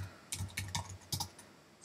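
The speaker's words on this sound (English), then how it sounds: "my typing's terrible, I must be nervous" Keys on a computer keyboard tapped in short irregular bursts, about a half-dozen close clicks over a couple of seconds while coding in Haskell, quiet and near with no talking.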